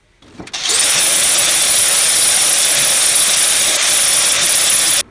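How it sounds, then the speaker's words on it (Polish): An axial die grinder runs at full speed while finishing the chassis of a Fiat Panda 4x4 under repair: a loud, steady high-pitched whine with a hissing edge starts abruptly and holds until it cuts off. "A później do wykończenia używam tej szlifierki osiowej"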